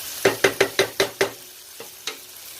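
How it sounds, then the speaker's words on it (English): Sausage and potatoes sautéing in a pan with dill, paprika, cayenne and celery seasoning: six quick, evenly spaced scraping strokes of a utensil over a soft sizzle, then two more isolated scrapes. "I'm letting them saute up a little bit before I add the liquid."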